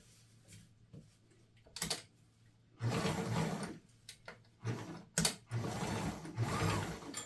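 A sewing machine runs in several close, steady bursts while top stitching a quilted mug rug, its mechanical whir starting and stopping with short pauses between runs, and no one speaks.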